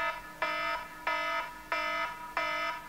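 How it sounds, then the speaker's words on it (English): An alarm clock rings in four evenly spaced bright electronic bursts, each about a third of a second long with short gaps between, faint against a quiet room. "as a less annoying replacement to your conventional alarm"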